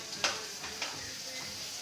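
Short burst of sizzling as tomato hits hot oil with an onion tempering, with a couple of light spoon taps.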